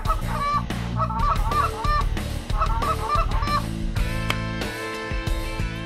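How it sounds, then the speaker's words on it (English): Geese honk loudly and repeatedly during a waterfowl hunt on Cheyenne Ridge, a dense flock calling close by in overlapping, rhythmic honks with no talk. "on our goose hunt, most of the geese did not want to fly until the end of the day"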